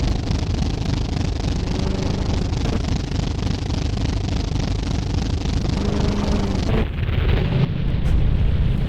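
Loud, continuous rumbling bursts of gunfire and explosions as a tank is hit from the side in the tank-design game Sprocket, a dense booming wash with a sharp drop near the end.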